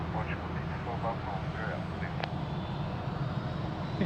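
An airliner takes off at Lisbon Airport, its engines making a steady distant roar beneath radio chatter and talking.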